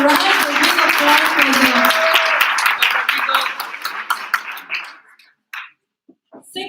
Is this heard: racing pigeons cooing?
no